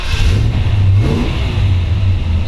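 A 1955 Chevrolet 210 Delray resto-mod with a built 350 V8 runs close by, its deep, steady engine rumble rising in a couple of revs.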